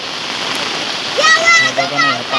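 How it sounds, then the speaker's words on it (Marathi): Heavy rain pouring onto the flooded Ulhas River during cast-net fishing, a dense steady rushing hiss and splatter close by, with someone talking over it in the second half. "तशी फुल जोराचा पाऊस चालू आहे"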